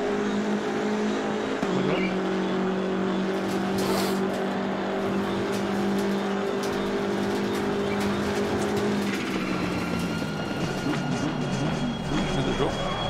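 A race car in a racing video game on a Mexico circuit revs with a sustained engine whine, then the pitch drops sharply as it shifts and brakes, with a hint of tire noise and faint talking beneath.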